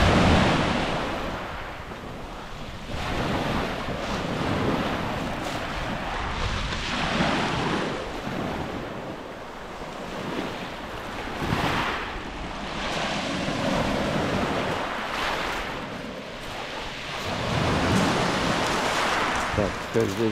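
Sea surf washing against a beach in Vardane in steady surges, with gusts of wind buffeting the microphone throughout.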